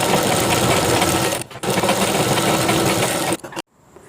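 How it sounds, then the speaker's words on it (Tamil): Sewing machine running a zigzag stitch along the hem of a churidar bottom, a loud, close, fast mechanical whir that pauses briefly once and then stops abruptly near the end. "இந்த ஓரத்துலேயும் ஒரு தையல் போட்டுட்டு அதுக்கப்புறம் ஒரு ஜிக்ஸாக் தையல் மாதிரி இப்போ நடுவில் இப்படி போட்டுக்கிறலாம்"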